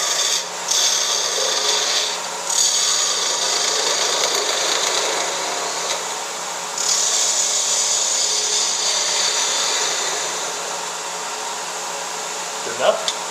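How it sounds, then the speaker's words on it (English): A small detail gouge shaves a wooden knitting needle on a spinning lathe, giving a steady close scraping hiss that drops out briefly twice and ends with a short tap; no one speaks. "Now I'm just going to turn a nice round profile on the end. My little detail gouge here."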